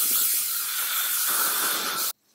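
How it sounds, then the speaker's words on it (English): A steady, continuous aerosol hiss of hairspray lasting about two seconds, close and fairly loud, then cutting off abruptly. "Let's spray it all in place."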